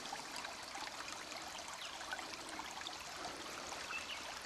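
A swollen creek after heavy rain flows and trickles with a soft, continuous rushing hiss, faint and steady throughout with no voices.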